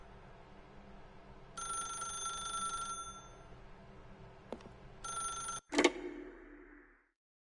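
A telephone rings inside the video game The Stanley Parable: two bright, trilling bell bursts separated by a pause, followed by a sharp clack as the handset is picked up, all in a quiet room.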